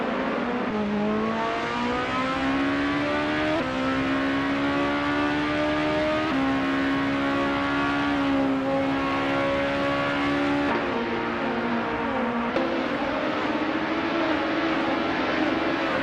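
Engines of 2014 Dallara GP211 race cars in a racing video game: a steady, loud high-revving drone with pitch rising and dropping through gear shifts, continuous throughout with no talk.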